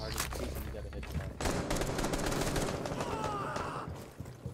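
Gunfire from a first-person shooter game crackles in quick bursts and then a sustained rattling volley, fairly close, with voices talking over it at moments.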